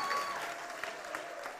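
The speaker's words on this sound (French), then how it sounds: "on l'applaudit très fort" An audience at a youth event applauds steadily, a broad even wash of clapping that holds at a moderate level throughout without a break.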